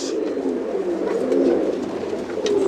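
Silver Lahori pigeon cooing close by in a loft, a continuous low throaty burbling coo with soft rustling and faint background noise.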